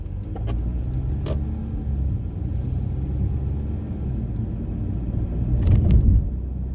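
A car driving on a road in Maplewood in the Minneapolis–St. Paul area, a steady low interior rumble of engine and tire noise throughout, swelling slightly louder near the end.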